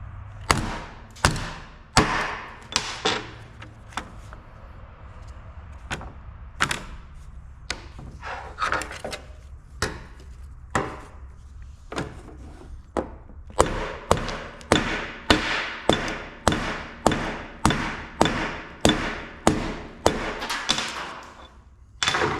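Hammer blows beating on an epoxied metal part treated with Ospho, dozens of sharp loud close impacts, irregular at first and then a fast steady run of evenly spaced strikes.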